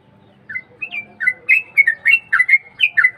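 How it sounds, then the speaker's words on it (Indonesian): A cucak trucuk bulbul sings a run of bright, bubbling chirps and warbled whistles in quick repeated phrases, close and clear over a quiet low background. "untuk hiburan iseng-iseng kita menikmati suara burung"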